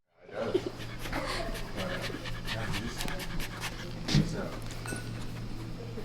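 A very small, fluffy dog panting rapidly and steadily up close, quick rhythmic breaths continuing throughout, with people talking faintly in the background.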